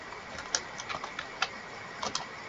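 Quiet, irregular clicking of keys on a computer keyboard as a prompt is typed, light taps scattered over a faint steady background hum.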